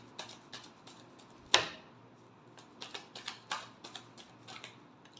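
Tarot cards being shuffled close by, with a sharp riffle snap followed by a run of light, irregular card taps and flicks in a quiet room.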